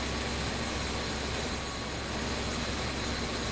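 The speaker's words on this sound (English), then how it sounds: "the aircraft comes to a complete stop and does not overrun the runway" Steady broadband engine roar from an aircraft in Microsoft Flight Simulator 2020 as it slows to a stop on the runway after landing, continuous and even throughout with no talk.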